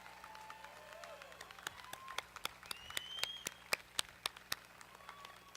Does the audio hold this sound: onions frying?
no